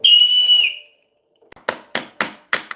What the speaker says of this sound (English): Couldn't get the whistle fast enough in my mouth.